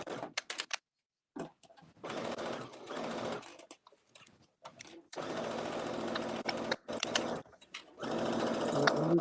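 A sewing machine basts skirt lining around the top edge, whirring loudly and close in several stop-start bursts separated by short pauses, with no talking.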